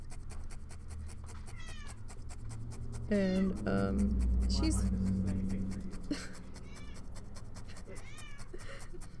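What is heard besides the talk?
cat meowing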